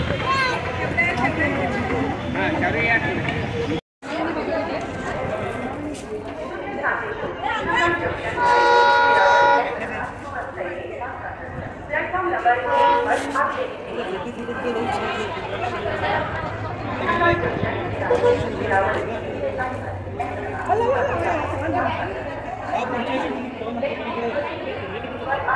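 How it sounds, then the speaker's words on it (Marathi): Junagadh railway station ambience, with a train rumbling and clanking along the platform, horn blasts and a busy crowd chattering throughout, all fairly loud and close. "हे जुनागड रेल्वे स्टेशन."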